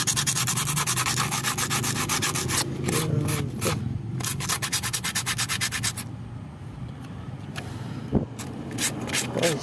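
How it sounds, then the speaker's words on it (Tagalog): Sandpaper rubbing back and forth over a car brake pad from a Nissan Sentra B14 during brake pad cleaning, making rapid, rhythmic, close scratchy strokes that pause partway through, with a voice heard faintly in the background. "Nahabol pa sa liha."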